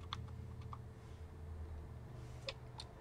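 Typing on a computer keyboard in Skype for Business attendant console, a few faint scattered key clicks over a low steady hum, quiet and close.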